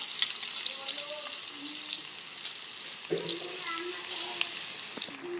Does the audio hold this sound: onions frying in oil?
yes